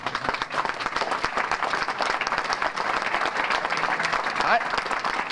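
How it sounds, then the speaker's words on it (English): A crowd at a sports hall of fame banquet applauds loudly and steadily for several seconds, with dense continuous clapping and faint murmurs mixed in. "I don't know what you people are clapping about."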